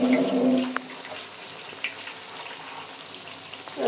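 Peyaji onion fritters frying in hot oil, a soft steady sizzle with brief bubbling bursts at the start and end, fairly close and with no voices.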